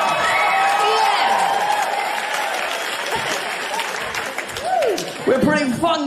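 A live studio audience claps and cheers loudly throughout, with whoops and scattered shouts, and voices rising above the applause toward the end.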